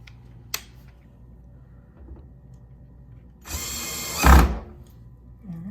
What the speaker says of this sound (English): now I'm going to get my drill